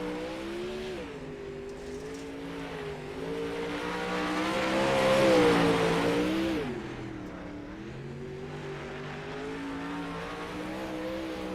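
A sprint car engine howls through a qualifying lap at Fairbury, one loud continuous roar that rises and falls with the throttle, swelling as it passes nearest and then settling back. No one speaks over it.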